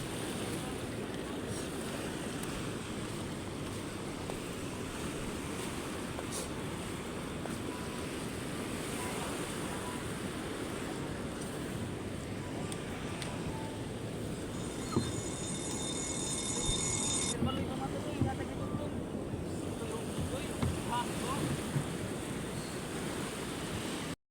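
Steady rush of surf and wind across the whole stretch, with a brief higher hiss partway through; no clear speech over the constant wash.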